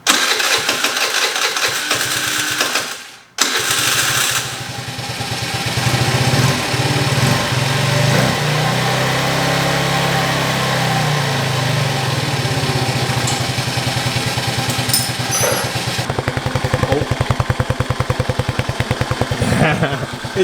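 A repaired scooter engine, fixed after a fuel pump fault, is cranked and fires, then settles into a steady, loud, close idle with a fast put-put rhythm, while a voice speaks over it.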